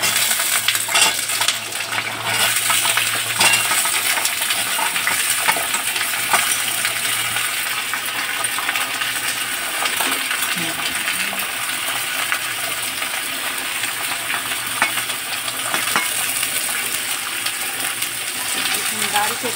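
Cauliflower, potato and peas curry sizzles steadily in a pan as the vegetables go in, with clinks of a utensil against the pan over the continuous frying hiss.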